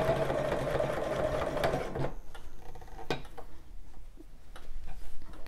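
A sewing machine stitches bra fabric in a steady buzzing run that stops partway, leaving quiet ticks and small mechanical clicks close by.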